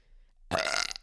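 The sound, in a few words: mouth fart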